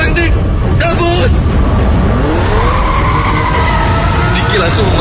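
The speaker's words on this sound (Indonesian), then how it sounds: "langsung memacu mobilnya kencang" A car speeds away with its tires skidding and squealing, a rising screech over a rough engine and road roar, with frantic voices shouting in the background.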